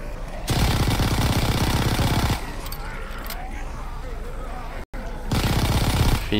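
Rapid automatic gunfire aimed at a zeppelin in Call of Duty WWII Zombies, The Final Reich map, loud bursts at the start and end with a quieter stretch of clatter between, broken by a brief gap.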